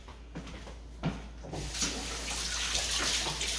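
A melon is rinsed under a running tap, a steady close splash of water that starts after a few soft handling knocks.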